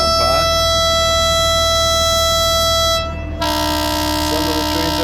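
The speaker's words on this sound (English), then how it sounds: "getting ready to take the train from Phnom Penh to Kampot" Diesel train unit idling at Phnom Penh station in Cambodia, its steady tonal horn-like drone sounding loud and close, then a brief drop before a brighter, louder tone returns.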